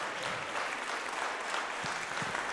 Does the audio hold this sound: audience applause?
yes